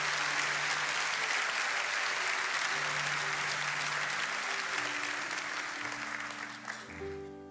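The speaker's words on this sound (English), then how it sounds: "Can we just give God one big loud clap of praise for his love?" A church congregation claps loudly in praise, a dense, sustained wave of applause that fills the room and fades near the end as organ or keyboard tones rise underneath.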